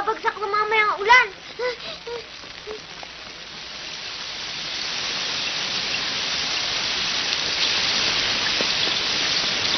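Rain falls in an animated show, a steady hiss that swells after brief dialogue between characters and then holds as a dense, even downpour to the end.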